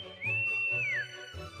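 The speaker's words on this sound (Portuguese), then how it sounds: "Quando chego, dou um assobio misterioso." A single clear whistle glides up, holds a long steady note, then slides downward, with low rumbling in the background.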